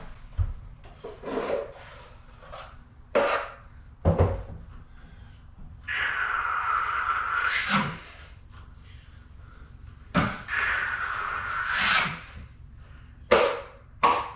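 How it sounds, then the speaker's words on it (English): Drywall mud being worked in a level 5 finish, with repeated scraping, smoothing passes of a knife or trowel over the wall, long sustained strokes between short knocks and taps, close and clear with no talking. "Drywall finishing ASMR."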